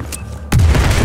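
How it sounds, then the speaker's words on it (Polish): A heavy explosion in the video game Battlefield 4 erupts after a brief quiet stretch with a faint crackle, then a deep booming blast with sustained low rumble that fills the rest of the moment. "Uwaga, będzie wybuch!"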